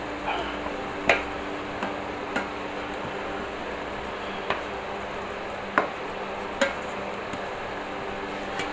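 Spaghetti with anchovies being stirred in a frying pan, with light scraping and a few sharp clinks of a utensil against the pan spaced every second or so over a steady low background hum.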